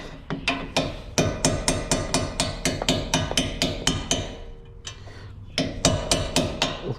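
A hammer strikes repeatedly on the front brake of a Ram Promaster 3500, knocking coating off a bolt: rapid, regular, sharp metallic blows close by, with a brief pause partway before the pounding resumes.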